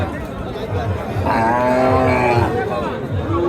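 A cow calls out a long, low moo among calves and cattle at Choubaria haat, a rural livestock market in Naogaon district, with a steady murmur of crowd chatter underneath.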